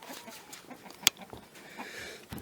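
Soft clucking of chickens close by, with faint rustling and one sharp click partway through.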